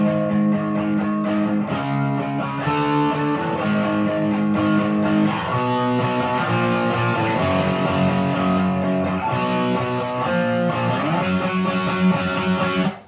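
An electric guitar slowly plays the main riff of a song, distorted power chords ringing continuously and loud as the chord changes shift every couple of seconds, with no talking over it.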